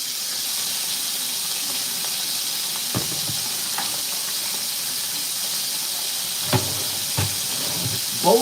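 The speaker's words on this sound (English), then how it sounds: "Got it sizzling." Chicken fries in a pan with a constant, bright sizzle of hot oil, close and fairly loud, broken by a few sharp pops and clinks over about eight seconds.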